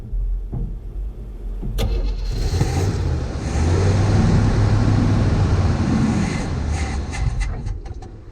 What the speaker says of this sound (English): we should get fuel to the carb now, so it might run on its own power